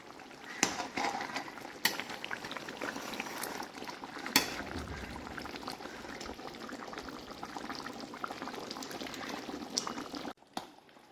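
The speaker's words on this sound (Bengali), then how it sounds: "দেখো আমার ফুটে গেছে, এবার আমি নামিয়ে নেব।" Shukto, a Bengali mixed-vegetable curry sweetened with a little sugar, bubbles at a steady boil in a pot, with dense continuous bubbling and popping close up and no talking.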